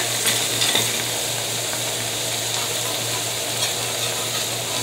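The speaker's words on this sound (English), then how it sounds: "So let me get some tongs flip this old hand steak over." Ham steak sizzling on a hot griddle, a dense, steady close-up frying hiss with a low hum underneath and no talking; any flip with the tongs is not clearly set apart.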